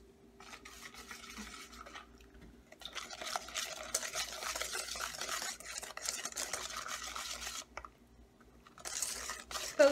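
A chocolate mousse mixture being whisked in a bowl, producing bursts of quick, wet, rhythmic scraping and swishing with brief pauses, close and fairly soft.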